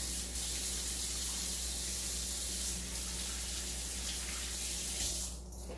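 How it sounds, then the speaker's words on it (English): Hands washed under a running kitchen tap after mixing peppers: a steady, loud rush of water that flows without a break and fades slightly at the very end. "Let me wash my hands now."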